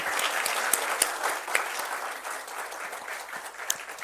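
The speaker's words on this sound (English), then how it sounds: "so we can give you a round of applause" Audience in a room applauding a team, a steady even wash of many people clapping, fairly loud, with occasional sharper claps punctuating it throughout.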